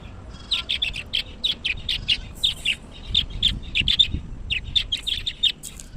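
Pet lovebirds chirp and squawk in a rapid, continuous string of short, high, bright calls, close and fairly loud over a faint low background rumble.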